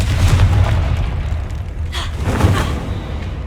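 Confringo blasting spell from Hogwarts Legacy detonating in a stone archway lined with stacked bones, a loud, booming low-end burst with a rumbling tail and a second smaller blast shortly after.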